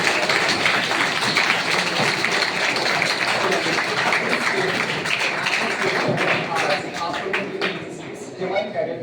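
Audience applause at a school skill development program, a dense, continuous clatter of many hands clapping that stays loud throughout before thinning slightly at the end.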